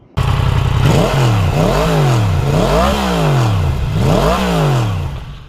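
Motorbike engine revving up and down four times in a rhythmic rise-and-fall, loud and close, with no talking.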